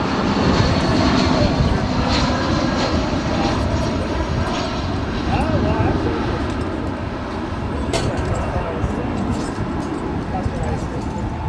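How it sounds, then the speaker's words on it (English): An Alaska Airlines Boeing 737-900ER jet waits to take off on runway 18 left at Dallas-Fort Worth airport. Its engines make a steady rumbling drone throughout, heard at a distance beneath nearby commentary. "737-900ER waiting to take off there on 18 left."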